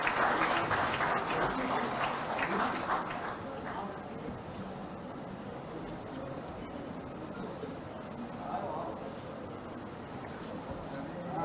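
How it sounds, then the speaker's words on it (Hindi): Audience applause welcoming the chief guest, a deputy chief minister, at an education excellence award ceremony; dense clapping that is loudest at the start and continues steadily, fading slightly, with faint voices mixed in. "जोरदार तालियों से स्वागत कीजिए हमारे मुख्य अतिथि माननीय उप मुख्यमंत्री श्री जगदीश देवड़ा जी का।"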